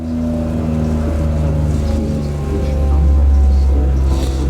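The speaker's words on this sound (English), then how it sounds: "he's just gone back in there to do the second load of dyno runs so we can get a readout" A BMW R1250GSA motorcycle runs on a dyno inside an insulated room, its engine a steady, muffled drone with a low harmonic hum that swells slightly toward the end.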